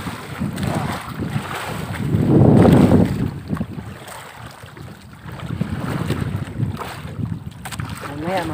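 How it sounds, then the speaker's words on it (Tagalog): Strong waves slosh and slap against a boat hull at sea at night amid gusting wind, with a heavy surge swelling loudly partway through. "Lakas ng alon guys oh"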